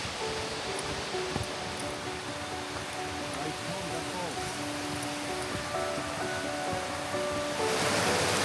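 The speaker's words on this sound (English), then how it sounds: "It's actually pretty big waterfall." A big waterfall rushing on a Tongariro hike near its base, a steady, loud, broadband roar that fills the whole stretch, with faint voices underneath.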